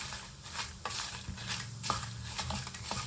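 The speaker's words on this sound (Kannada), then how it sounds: "ಸ್ವಲ್ಪ ಇದು ಫ್ರೈ ಆದಮೇಲೆ ಈಗ ಮೆಣಸಿನ್ಕಾಯಿ ಹಾಕ್ಕೊಳ್ಳೋಣ." Byadagi, Guntur and Teja dried chilies fry in hot oil for sambar, giving a close, crackling sizzle broken by stirring scrapes and light clinks of a utensil against the pan.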